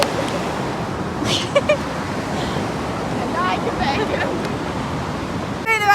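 Sea waves wash continuously onto a beach in a steady roar, with faint distant voices breaking through now and then.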